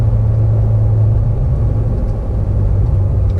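A 2015 Corvette Z06 with a manual gearbox pulling away in second gear after a shift, its engine a loud, deep, steady rumble heard from inside the cabin.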